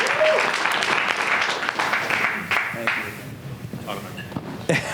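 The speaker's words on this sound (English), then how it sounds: "Round of applause, Hey-o. Chris." An audience at a talk on growing a contracting business bursts into applause, dense clapping that swells at first and then gradually thins and fades over a few seconds.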